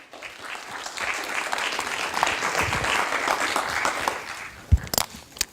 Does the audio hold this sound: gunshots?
no